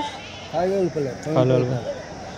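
Sheep at a weekly sheep market in Kadiri bleat twice in quick succession, close and loud, with crowd murmur and voices underneath.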